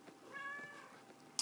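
A short cat meow rises and falls once, faint and a little distant, ending in a brief click.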